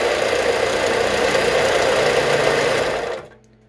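Harbor Freight 4 inch belt sander motor running with a loud steady electric hum and whine, then abruptly cutting off, leaving near silence at the end.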